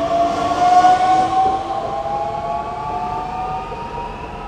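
A short two-car train pulls away in Rostock, its loud rumble and a sustained tonal whine gradually fading as it departs, with no other sounds.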